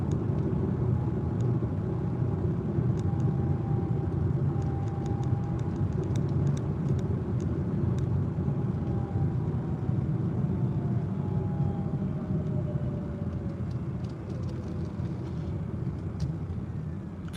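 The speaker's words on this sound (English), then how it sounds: "The car's actually really quiet. The motor sound up front's pretty loud." Lucid Air electric car driving, with a steady low road and tire rumble under a faint whine from the motor that slowly glides in pitch, all continuous with no talk.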